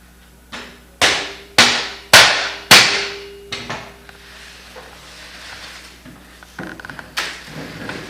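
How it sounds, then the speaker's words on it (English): A hammer taps frame tubes together during assembly of an underwater ROV frame: about five sharp, ringing strikes in a steady rhythm, then quieter knocks and a couple of final taps, close and without talk. "You'll notice there's a distinct difference in the sound that the hammer makes when the tubes are tightly together."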